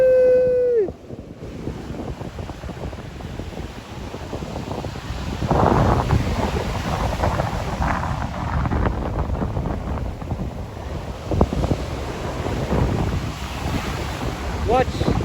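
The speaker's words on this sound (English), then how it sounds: "Watch for the waves." Ocean surf rolls steadily onto the shore at Laguna Beach, a continuous broad wash of breaking waves mixed with wind buffeting the microphone, with a brief tone at the start.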